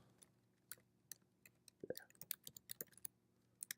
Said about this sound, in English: Just start typing in keywords